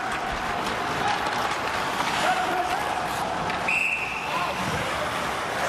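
A referee's whistle blows briefly at an ice hockey game, the 2021 IIHF World Junior Championship between the United States and Sweden. The short, shrill blast cuts through a steady roar of arena crowd noise.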